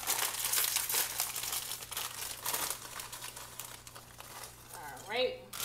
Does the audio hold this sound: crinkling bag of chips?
yes